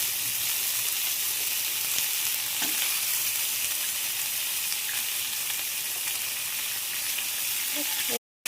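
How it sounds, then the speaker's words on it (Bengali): Pointed gourd, potato and onion fry in a pan with a dense, continuous close sizzle and occasional stirring scrapes, ending abruptly. "পটলটা একটু ভাজা ভাজা হয়ে গেছে"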